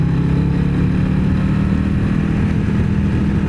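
The big engine of a Harley-Davidson motorcycle on a demo ride drones loud and steady with a deep, throbbing rumble, close by and without any talk.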